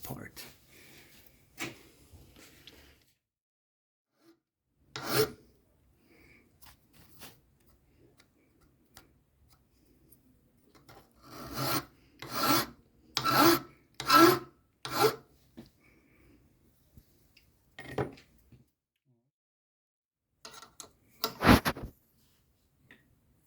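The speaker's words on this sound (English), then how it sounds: "We're going to grind this upper part." Upper part of a Honda CRF300L suspension component ground during a K-Tech SSK upgrade, heard as several short rasping bursts of a few seconds each, loudest in a cluster midway, with quiet gaps between them.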